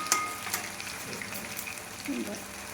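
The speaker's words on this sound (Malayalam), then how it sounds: "കായ വറുത്തതായ എണ്ണയിലിരുന്ന് വറക്കുന്നു" Banana slices fry in hot oil for Kerala-style banana chips, a steady sizzling crackle with occasional light clinks of a utensil, and a voice speaking faintly in the background.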